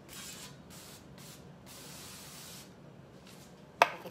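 Several short hissing bursts of an aerosol cooking oil spray into a cake pan, close up and fairly quiet, ending with a sharp click or tap.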